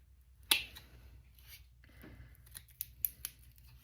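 Blade snips cutting apart dahlia tubers during division, a few sharp clicks and snaps scattered over a quiet background, close and fairly soft.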